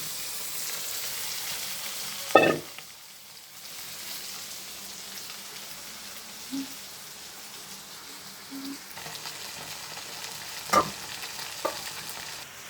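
Faissa fish bhuna cooking in a pan: a soft, steady sizzle of oil close by, broken by a few clinks and stirring knocks of a utensil against the pan.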